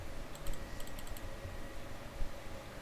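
Computer keyboard typing in a quiet room, a short run of light key clicks early on with spacebar presses, faint and close, over low background hum.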